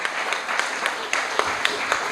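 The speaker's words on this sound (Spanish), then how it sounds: "Si usted le va a aplaudir al Señor, apláudale con todo su corazón." A church congregation claps and applauds through a Spanish-language sermon, a dense, steady patter of many hands at moderate loudness. A preacher's voice carries over it.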